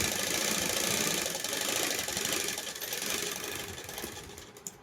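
A sewing machine stitching fabric for a small Krishna dress, running steadily with a continuous fast mechanical whir and chatter, close and alone.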